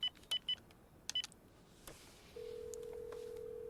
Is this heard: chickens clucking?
no